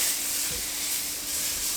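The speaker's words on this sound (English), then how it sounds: "we're gonna flip our steaks" Cubed steaks sizzling steadily in a hot pan just after being flipped, a constant broadband hiss with faint crackle and no talking.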